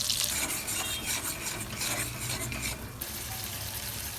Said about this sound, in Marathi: कढईमध्ये तेल टाकलंय, मिक्सरमध्ये काढलेली पेस्ट टाकली सगळी